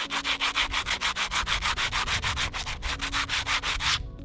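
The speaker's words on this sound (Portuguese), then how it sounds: "Daí agora que secou, eu venho com a lixa" Sandpaper rubs back and forth across a wooden corral fence post after the finish has dried, a steady run of about twenty close, even rasping strokes that stop abruptly near the end.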